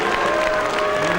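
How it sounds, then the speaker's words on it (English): Crowd noise at an Australian NSL elimination final between Adelaide City and Wollongong City in 1997-98 as a player is substituted off, a sustained dense roar of applause and voices throughout, with no clear individual boos standing out. "the crowd alternating between cheers and boos, some wishing him well and congratulating him"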